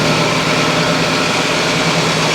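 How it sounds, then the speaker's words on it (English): A valve grinder runs, spinning an engine valve from a GM 5.3 engine during an overhaul, producing a steady, loud mechanical hum with no talking over it. "Back of the valve grinder, we're going to turn it on."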